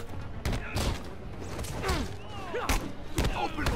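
Gunfire in the Spider-Man video game: sharp bangs and thuds burst out in quick irregular volleys over a busy combat mix with whooshing effects, punctuated by a few louder shots.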